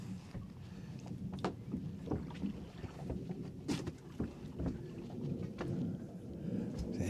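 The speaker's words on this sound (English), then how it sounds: "It's an aeroplane. I thought it was thunder." Distant aeroplane passing overhead with a low, continuous thunder-like rumble, heard from a small boat on a calm sea amid wind and water noise and a few knocks on the hull.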